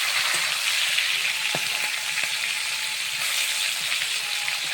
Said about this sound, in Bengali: মাছগুলা সুন্দরভাবে ভাজা হয়ে গেছে। উল্টে দিচ্ছি